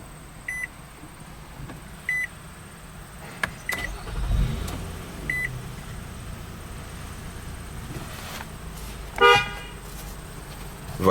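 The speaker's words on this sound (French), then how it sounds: "On va maintenant démarrer le véhicule" A 2014 Nissan Pathfinder Platinum is started by push button: sparse electronic chimes, a brief low starter crank, a quiet idle underneath, then further beeps and a final louder tone.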